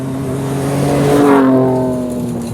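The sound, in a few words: Ford Ranger Raptor twin-turbo V6 switchable exhaust revving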